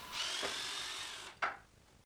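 A power drill whirs steadily as it bores guide holes in pallet wood for an Adirondack chair, followed by a second short, sharper burst before it stops.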